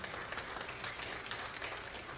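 A church congregation claps together in a sustained, fairly faint burst of applause lasting a couple of seconds, steady and even throughout.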